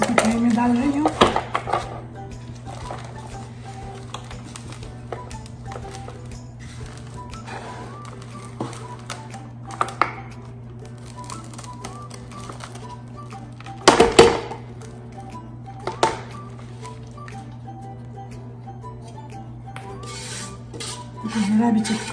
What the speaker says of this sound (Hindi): अभी ये मेरा मिक्सचर बिल्कुल तैयार हो गया है, अभी मैं इसको ट्रे में डाल रही हूँ।